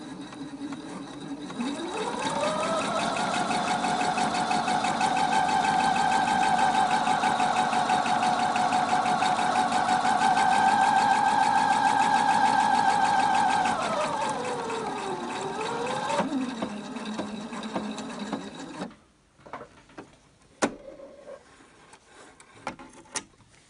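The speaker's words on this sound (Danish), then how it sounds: "Og så syr jeg sammen i den her bue her hen over næsen." A sewing machine stitches a curved seam over the nose of a fabric face mask, its motor running as a steady whirring drone for about fourteen seconds before winding down, followed by a few small clicks and taps.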